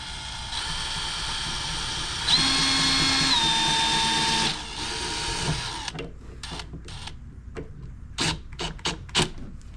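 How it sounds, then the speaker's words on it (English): A power drill drives screws into a wooden bellows under restoration, with a sustained whining run that rises in pitch, then several short bursts of the motor separated by pauses. "So, we are currently screwing in these"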